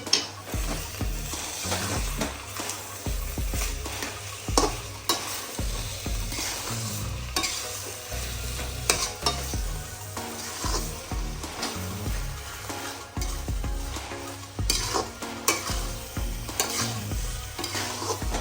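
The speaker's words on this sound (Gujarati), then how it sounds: "તો થોડી વાર આ રીતે આપણે મિક્સ કરીશું જેથી કરીને આપણો દૂધીનો હલવો સંપૂર્ણ રીતે ચડી જાય" Bottle gourd halwa being stirred in a pan, with repeated scraping and clinking of a spoon against metal over a constant soft sizzle, close and steady throughout, with no speech.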